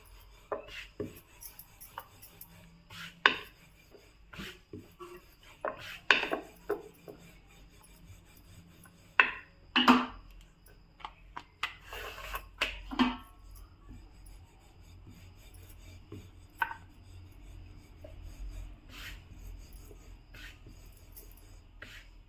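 Cucumber paratha dough is rolled out thick with a rolling pin, soft rubbing and scraping strokes with occasional knocks on the board, close and intermittent.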